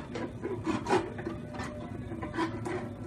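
A float rasp files a horse's cheek teeth with a steady, close scraping. The strokes rub back and forth continuously, with no pauses.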